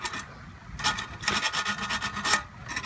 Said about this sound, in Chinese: 就用这个打磨一下